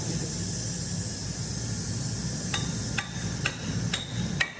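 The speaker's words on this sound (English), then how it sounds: "tap it down with the hammer" Several sharp metallic taps from a hammer ring out at irregular intervals over a steady background hum.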